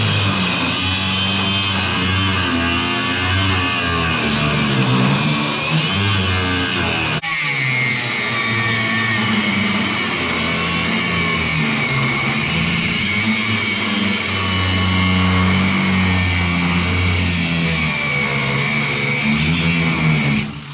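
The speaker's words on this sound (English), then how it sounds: "So let's go to the cutoff wheel." A cutoff wheel grinds through a rusty front suspension control arm on a 1966 car: a loud, continuous high-pitched whine that wavers in pitch and dips briefly once before it carries on.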